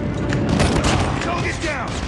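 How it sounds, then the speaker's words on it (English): Airstrike in Call of Duty Mobile, a loud, continuous burst of booming explosions and gunfire crowding a brief moment while a voice speaks over the chaos. "Friendly airstrike incoming."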